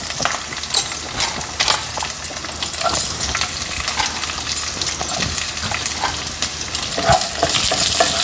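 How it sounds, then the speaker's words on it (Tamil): Green chilli, onion and capsicum sizzle steadily in a hot pan, loud and close, as a spoon stirs them with frequent scraping taps and no talking. "இந்த க்ரீன் சில்லி போட்டுட்டு வதக்கணும்"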